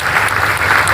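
Dense, continuous clapping from a crowd at a municipal council speech, loud and close, sustained through the whole second without pause.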